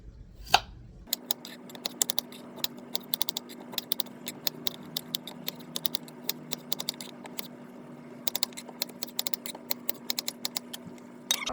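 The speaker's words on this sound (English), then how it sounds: "I'm gonna chop up the potatoes" Quick, crisp knife strikes chopping potatoes on a cutting board while preparing Hungarian meatball dinner, a steady run of sharp close taps with a faint hum underneath.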